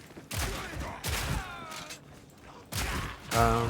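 Grenades fired in the video game Path of Exile 2 come as bursts of loud, crackling volleys, three or four separate blasts with mechanical rattles and ringing tails between them.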